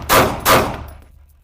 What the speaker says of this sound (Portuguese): vamos disparar alguns tiros só para aquecer.